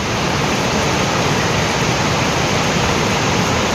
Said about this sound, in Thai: จะพามาถึงบรรยากาศน้ำตกที่มีความสวยงาม